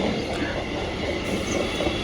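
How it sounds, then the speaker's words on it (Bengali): A train rumbles steadily close by as it arrives at a station beside a vegetable market, a continuous heavy roar of rolling wheels and carriages with faint metallic squeals. "দেখুন ট্রেন ঢুকছে"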